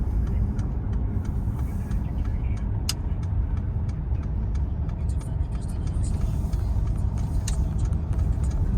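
A 3.5-litre engine in a 2014 Mercedes SL 350 runs steadily, giving a continuous low rumble across the whole stretch with faint voices in the background.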